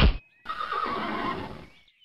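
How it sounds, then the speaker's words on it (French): A horse neighs loudly in a long whinny as a sound effect within a spoken story reading, alone after a brief thump. "Dit le grand Klaus, et il prit la maillotche et frappa l'unique cheval du petit Klaus au front."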